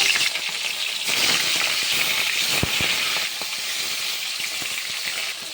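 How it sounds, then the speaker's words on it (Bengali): Lata fish (snakehead) frying in hot oil in a wok on a gas stove, a steady loud sizzle with crackling pops and a few sharp clinks of a utensil against the pan. "প্রথমে আমি মাছগুলো ভেজে নেব।"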